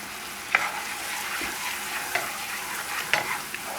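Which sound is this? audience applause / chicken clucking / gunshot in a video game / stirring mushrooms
stirring mushrooms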